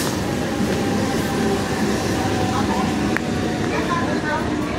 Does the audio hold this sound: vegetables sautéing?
no